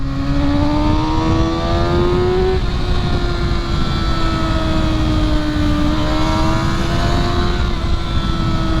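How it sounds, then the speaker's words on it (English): An inline-four super sport motorcycle engine revs hard and close, its high harmonic whine climbing and holding steady with a loud, continuous roar and no voices. "there are way more comfortable ways to get the inline 4 whine"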